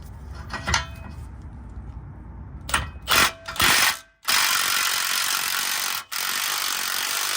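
A ratchet works an 18mm bolt on the passenger-side front suspension of a 2000–2006 Chevrolet Tahoe, giving close clicking pawl strokes in short bursts, then a longer steady mechanical whir, with no talking.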